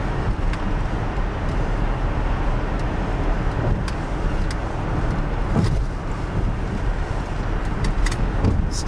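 Steady, loud road rumble and wind noise from inside a moving car, continuous throughout with a few faint clicks and knocks over the drone.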